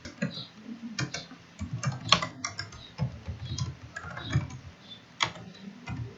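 Typing commands on a computer keyboard during a network switch configuration lab, with a steady run of close, crisp keystrokes and occasional sharper key taps.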